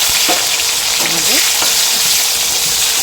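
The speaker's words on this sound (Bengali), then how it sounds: "তেলের মধ্যে দিয়ে দিচ্ছি টমেটো" Tomato and nigella seeds sizzle steadily in hot oil in a pan while a Bengali pabda fish curry is cooked, a loud, continuous frying hiss with a few faint clinks, and no talking.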